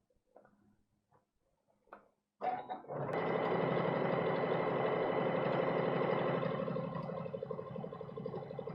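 Sewing machine stitching the side of a bag, starting after a few faint handling noises and then running as a steady, fast mechanical whir close by.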